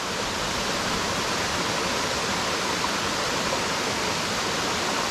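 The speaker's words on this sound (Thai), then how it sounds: "นี่น้ำไหลมาจากข้างบนอย่างนี้เลยโห โคตรจะธรรมชาติ" Multi-tiered waterfall at Pin Pin Falls near Bang Wad Dam, Kathu, Phuket, Thailand, pouring down in a steady, dense broadband rush of water, constant and unbroken throughout, with no voices.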